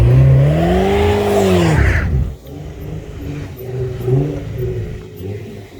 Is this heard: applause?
no